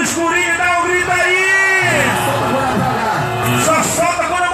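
A large carnival street-party crowd at the Bloco Croco Ouro parade yells and whoops together on cue, a loud, sustained roar of many voices with singing and shouting mixed in.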